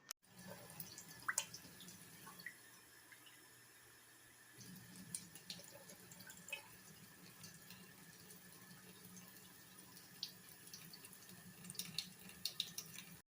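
Vinegar and water being poured into a cooking pot for banana pepper hot sauce, a faint continuous trickle and splash with scattered drips, quiet and alone for several seconds.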